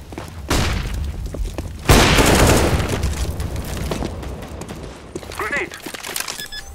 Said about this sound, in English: I'm throwing a grenade.